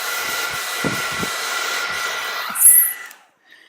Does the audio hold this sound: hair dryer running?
yes